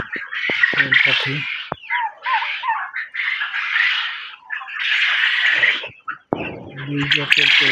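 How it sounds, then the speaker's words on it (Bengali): Quail birds on a farm give bursts of chirping, squawking calls close by, rising and falling over several seconds, with a person talking at times. "দুই জাতের কোয়েল পাখি আছে,"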